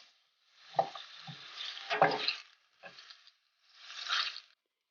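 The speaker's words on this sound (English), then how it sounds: "Cook the onions on medium to high heat." Onions frying in a pan over medium-high heat for a chickpea rice pilaf give off a close, crackling sizzle in uneven bursts, broken by brief stirring scrapes and short pauses, with no talking.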